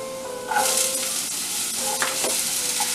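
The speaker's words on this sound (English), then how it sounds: "Now again saute it for 2 to 3 minutes" Thinly sliced celery sizzles as it is sautéed in a pan for a vegan broccoli curry base, a steady close frying hiss that brightens after a moment, with occasional stirring scrapes.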